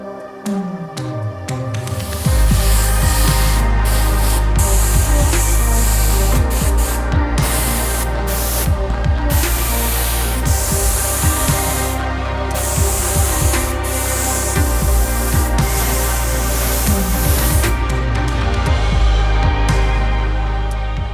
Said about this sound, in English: to give all of Doddy's parts one good coat of lacquer.